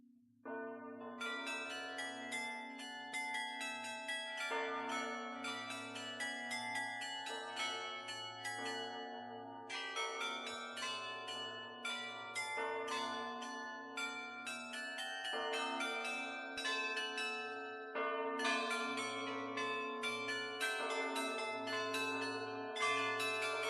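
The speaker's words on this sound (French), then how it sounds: "Nous voici enfin dans la chambre des cloches, où nous pouvons voir le carillon et les cloches" Bells and carillon of Saint-Omer cathedral ring inside the bell chamber, a continuous, dense peal of overlapping tolls and chimes heard up close and fairly loud throughout.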